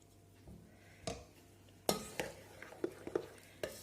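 A spoon scrapes and knocks against a bowl while stirring dough for poppy-seed cakes, in irregular strokes, close and fairly quiet, with soft clinks between the stirring motions.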